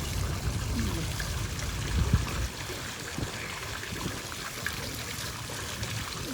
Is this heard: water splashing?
yes